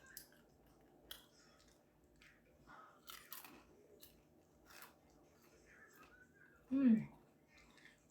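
Crunchy food bitten and chewed close to the mic, a few scattered crisp crunches and a louder bite near the end, with quiet background sounds and no talking over it.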